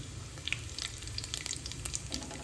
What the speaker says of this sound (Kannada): ಎಣ್ಣೆ ಕಾಯ್ಲದು, ಸಾಸ್ವೆ, ಜೀರಿಗೆ, ಸ್ವಲ್ಪ ಚಟ್ಪಟ್ಟನ್ಲೆ ಸಾಸ್ವೆ.